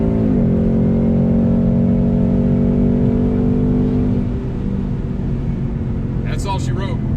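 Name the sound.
C7 Corvette accelerating in 60-130 roll race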